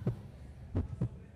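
A heartbeat sound effect thumps in low, soft beats: one beat, a pause, then a quick double beat, each dull and muffled.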